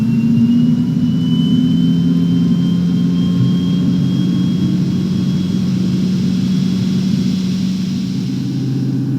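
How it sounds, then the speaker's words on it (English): Airliner jet engines in Microsoft Flight Simulator spool up as a loud, steady, continuous roar with a faint high whine running through it, and no voices. "let's rev up the engines and get going here."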